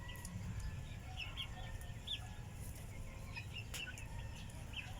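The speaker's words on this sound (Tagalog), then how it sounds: "Malalaki na mga kaputak ko." Free-range chickens, including a Plymouth hen, cluck in short scattered calls over a low outdoor rumble, the clucks light and moderately distant with no voices.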